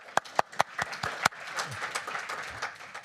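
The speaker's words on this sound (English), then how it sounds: "so a big round of applause for Ellie." A conference audience claps, starting with a few sharp, separate claps that quickly merge into a steady, moderate round of applause.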